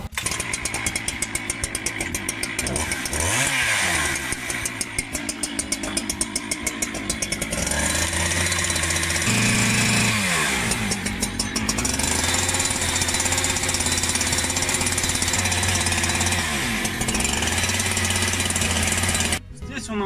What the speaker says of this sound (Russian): Поэтому мы с помощью бензопилы сейчас это уберем.